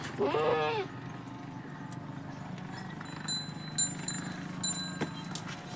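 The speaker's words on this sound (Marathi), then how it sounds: "एक शेळी आहे." A goat at a home farm with a tin-roofed shed gives one loud, wavering bleat near the start. Faint rustling and scattered small clicks of the yard follow.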